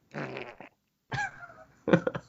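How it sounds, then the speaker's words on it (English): Three fart sound effects, each short, buzzy and close-up, separated by silences, the last one sputtering in a few quick bursts. "I'll just layer your fart noise over."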